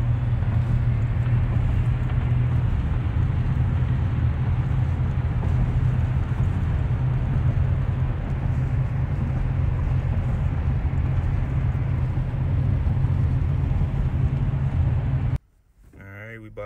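Inside a car stuck in traffic, a steady low rumble of engine and road noise drones on for most of the stretch before cutting out abruptly near the end, with a voice briefly audible underneath.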